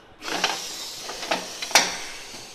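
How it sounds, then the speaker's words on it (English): A longitudinal seam welding machine clamps its workpiece with a sudden onset of airy hissing, followed by several short pneumatic bursts, the last one sharpest, nearby and without speech. "Then we need to clamp the workpiece."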